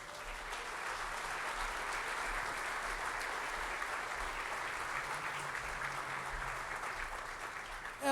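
A church congregation applauds steadily throughout, a dense, even wash of many hands clapping at moderate distance with no break.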